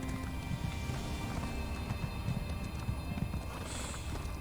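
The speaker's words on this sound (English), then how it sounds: "That time when you call your horse, but then promptly uncall your horse" A summoned horse in the Elder Scrolls Online video game, with steady clip-clop hoofbeats and a whinny over a dense, constant game soundscape, loud and without talk.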